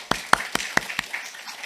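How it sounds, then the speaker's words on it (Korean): Church congregation claps in thanks to the teachers: five quick, sharp, evenly paced claps close by, then a soft, scattered tail. "우리 선생님들 감사하다고 박수 한번"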